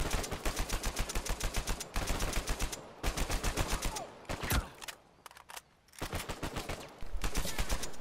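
Gunfire in Uncharted 4, rapid automatic bursts in several volleys separated by brief pauses and a few single shots, loud and close with no talk.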